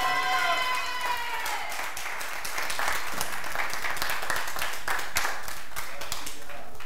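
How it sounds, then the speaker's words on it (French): A church congregation applauds and cheers for a pastor and his family, dense clapping with voices rising over it, loud and close throughout. "Est-ce qu'on peut acclamer?"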